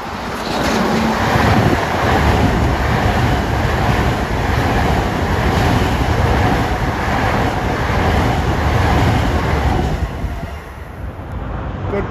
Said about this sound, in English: Right away, here comes train 1959